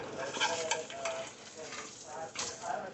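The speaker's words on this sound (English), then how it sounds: "I'm gonna flip this egg with a knife." An egg fries in a pan while a knife stirs and scrapes at it, giving a steady close sizzle broken by short metallic scraping taps as it is flipped, with no talk.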